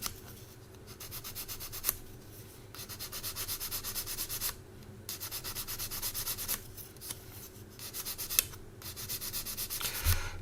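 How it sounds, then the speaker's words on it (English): Sandpaper rubbing along the edge of a 1/72 scale Academy Spitfire plastic model kit, rhythmic close-up scratchy strokes repeating in short bursts with brief pauses and a few taps. "it's a bit proud, so I'm going to need to smooth this down a bit."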